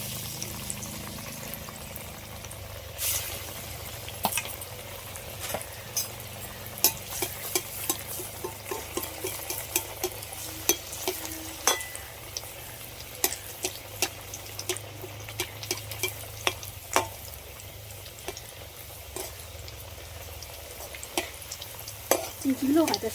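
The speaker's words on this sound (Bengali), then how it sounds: "তেলটা গরম হয়ে গেছে, এবার চিপসগুলো সব ভেজে নেব।" Homemade potato chips frying in plenty of hot white oil, a steady bubbling sizzle broken by frequent sharp clinks and scrapes of a utensil stirring, with brief faint speech.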